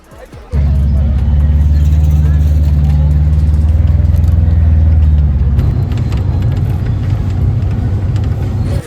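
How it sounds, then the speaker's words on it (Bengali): An auto-rickshaw engine starts up and runs with a steady low rumble for several seconds, then settles into a rougher idle as the vehicle sets off toward Rampurhat station. "চলুন গাড়িতে ওঠা যাক এবং রওনা দেওয়া যাক"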